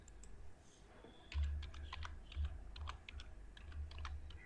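Fingers type a search on a computer keyboard, producing a run of soft, close key clicks with a couple of slightly heavier thumps, quiet and without talk.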